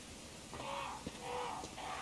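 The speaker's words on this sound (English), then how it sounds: "These crows want to start something" Crows cawing in Resident Evil 1 HD Remastered, a few harsh calls spaced through the moment over a low ambient game background, fairly faint and without talk.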